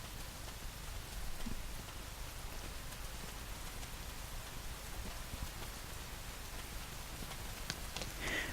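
Steady rain falls throughout the video game Rain, a dense, even hiss of drops on surfaces that continues without pause, with no voices.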